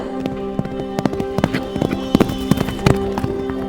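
Hooves of a horse-drawn carriage clip-clop in a steady, fairly brisk rhythm of sharp, hollow knocks, loud and close, over a sustained tonal background drone.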